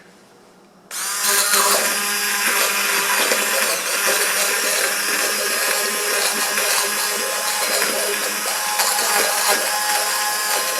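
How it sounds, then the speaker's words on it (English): An immersion blender purees tender cooked tomatoes into a small batch of cabernet spaghetti sauce, switching on abruptly after a second of quiet and then whirring loudly and steadily, close by, for the rest of the stretch. "it's time to use my immersion blender"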